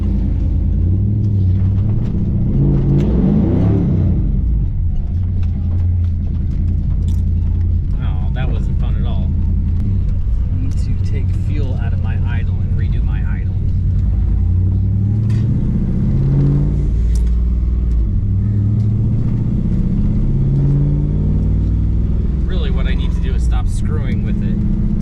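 A 1992 Chevy C1500 with a swapped-in LS1 V8 and T56 gearbox, running lean during tuning, gives a steady low rumble at idle that holds for the whole stretch, with voices faintly over it.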